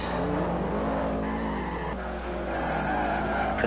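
A racing car skidding with squealing tyres during a crash in a Forza 4 race at the Nürburgring, a continuous loud roar of engine and tyre noise with no talking.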